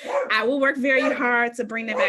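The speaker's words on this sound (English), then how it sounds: "Sorry about my dog." A dog barks and yips intermittently behind a woman's steady, close speech, the barking partly masked by her voice.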